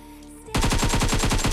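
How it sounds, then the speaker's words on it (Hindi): Rapid automatic gunfire from PUBG Mobile bursts in suddenly after a quiet moment, with loud, evenly spaced shots that keep going in a fast stream. "तभी इसका बंदा पीछे से फायर करता है"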